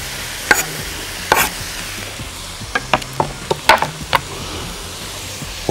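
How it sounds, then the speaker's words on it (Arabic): Shredded cabbage being stir-fried and tossed in a pan for spring rolls: sharp scraping clicks and knocks from the utensil come in irregular bursts over a faint sizzle, close and with no talk. "وهنقلبه بالظبط دقيقه دقيقتين لحد بس يا دوبك ما الكرنب يدبل معاه"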